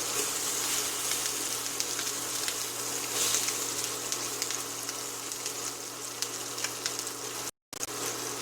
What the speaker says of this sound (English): Drop the eggplant and whatever remaining in that bowl, you just have to drop it also and let it cook.